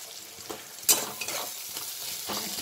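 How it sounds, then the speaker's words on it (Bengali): Onions frying in a pan with salt for a chicken dish, a steady sizzle with scraping stirs of a spatula, one sharp clatter early on, close and moderately loud with no talk. "একটু ভাজা ভাজা হোক, নরমও হয়ে যাবে।"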